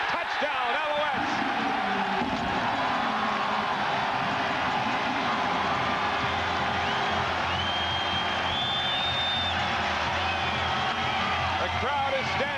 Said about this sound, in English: The crowd is standing at Molson Stadium as the Alouettes take the lead